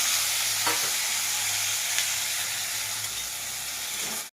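Chopped vegetables sizzle in hot oil for lentil dal, a steady close frying hiss with occasional scraping stirs, no talking, cut off abruptly at the end.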